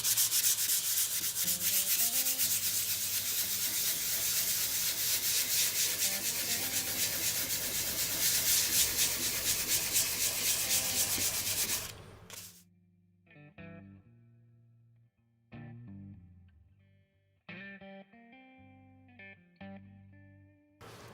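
Steady, continuous abrasive rubbing of 600-grit sandpaper on a guitar's hard finish for about twelve seconds, then it stops, leaving quieter, scattered knocks and handling sounds.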